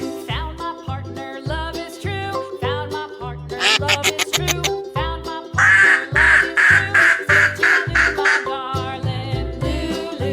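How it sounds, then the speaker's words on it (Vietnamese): A duck quacks repeatedly in a steady, evenly spaced rhythm over a bright, busy backdrop of cheerful children's music, loud and close. "Duck."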